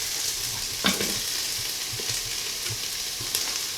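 Chopped garlic sautés with carrots in an Instant Pot for 15-bean soup, a continuous bright sizzle with occasional spoon knocks against the pot, close and without talk.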